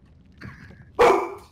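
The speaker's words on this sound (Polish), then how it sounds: "Jak ta Joko głośno szczeka." A dog named Joko gives one loud, sharp bark after a softer whine-like yelp, close by at a lively gathering.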